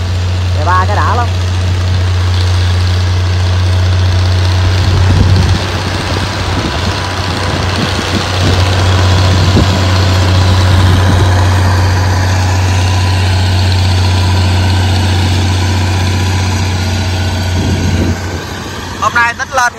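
A farm tractor hauling cassava idles steadily with a low, continuous engine drone, close and loud throughout, set near a flooded reservoir in Tay Ninh; a few brief higher sounds come and go above the hum.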